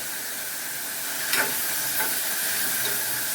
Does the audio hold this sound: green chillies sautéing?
yes